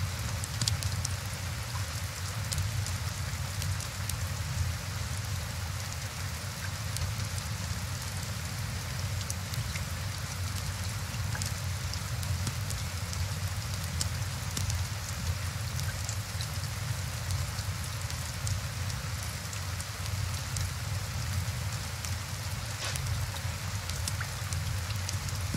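Continuous rainfall in the tavern-management game Tavern Master, an even, unbroken patter and hiss that holds steady throughout with no voices.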